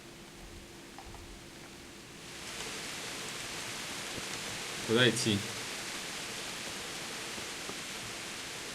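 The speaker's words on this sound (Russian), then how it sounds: "Дождь такой сильный." Heavy rain in Kingdom Come: Deliverance on a castle wall sets in as a steady, even hiss after a couple of seconds and continues throughout, with someone briefly speaking over it and a short tonal chime midway.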